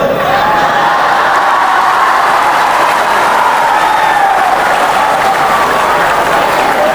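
Sustained, loud applause from a crowd at a school talk, many hands clapping at once with some cheering and whoops blended in.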